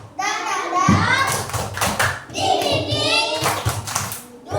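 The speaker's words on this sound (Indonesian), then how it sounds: "Tepuk semangat." Children at a school session doing a rhythmic spirit clap, bursts of claps and thumps in a chanted pattern mixed with lively young voices, close and energetic.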